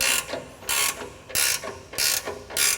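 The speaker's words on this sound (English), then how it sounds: "Now you'll watch the table come into level as I ratchet this bolt" A wrench ratchets a bolt on an 18-inch bandsaw table, a close, crisp ratcheting in five evenly spaced strokes, each a burst of rapid clicks with short pauses between.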